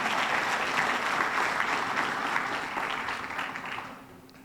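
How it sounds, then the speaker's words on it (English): Audience applause at a police department annual awards ceremony, a dense, steady wash of many hands clapping that holds for several seconds and then gradually fades near the end. "Give them a round of applause one more time."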